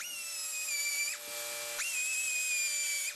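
A high-pitched power grinder whines steadily while grinding down welds on a rusted car torque box under repair, close and continuous, pitch dipping briefly twice as the tool loads against the metal, with no talking.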